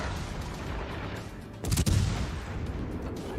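A warship's naval guns in World of Warships let off a short, heavy burst of booming fire over a continuous roar of sea and engine noise.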